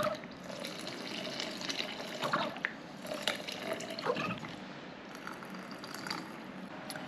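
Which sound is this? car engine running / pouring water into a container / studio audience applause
pouring water into a container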